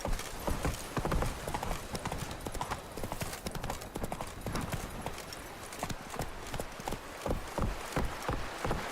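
A horse gallops in The Witcher 3: Blood and Wine, its hooves giving a continuous rapid clip-clop rhythm at moderate volume over a busy game soundscape.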